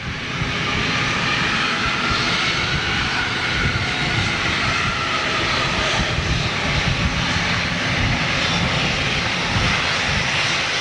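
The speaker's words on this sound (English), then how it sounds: "Watch the props go into reverse" A propeller airliner on landing with its props going into reverse, a loud, steady, broadband engine roar that holds without letup throughout, with no talking.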